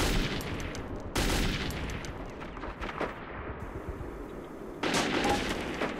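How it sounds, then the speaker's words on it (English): Gunfire in the video game Metro 2033, aimed at the player: loud, dense bursts of rapid shots and heavy crackling reports, close and continuous, with a brief lull midway before another burst. "How is someone shooting me?"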